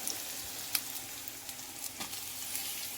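Chopped elephant yam stalks fry in a pan with a steady, moderately loud sizzle, broken by a few soft clicks and stirring sounds throughout.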